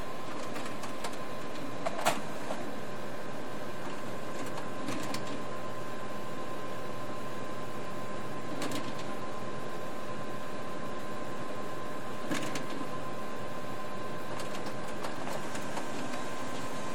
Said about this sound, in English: Now it's printing out the copy.